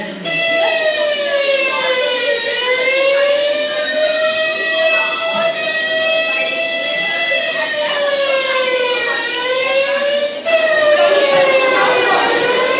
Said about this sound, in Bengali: সাইরেন বাজলেই